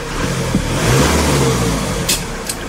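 RAM ProMaster 3.0L engine in limp home mode with a check engine light on, running and revving up briefly, a close, steady mid-pitched hum with short rises in pitch, heard alone.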